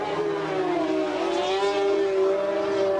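Racing sidecar outfits roar past on the Donington circuit at a 1987 world championship round, engines screaming steadily with a rising, sweeping pitch as the machines pass close by, the sound continuous and loud throughout.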